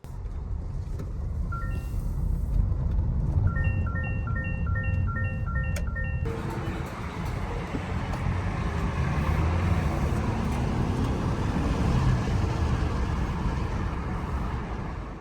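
A truck driven by an owner-operator cruises down the road, a steady broadband rumble of engine and road noise, with a few short electronic beeps sounding in the cab early on.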